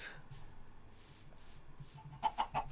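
Chicken clucking in the Minecraft video game, a short run of four or five bright clucks near the end over a soft, steady game background hum.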